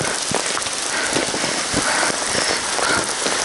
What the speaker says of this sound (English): Now heavy rain started and ice drops fall.